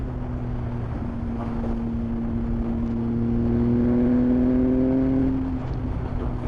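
A motorcycle accelerates while being ridden, its engine note climbing steadily in pitch to a peak and then easing off, heard close with steady wind rush over the microphone.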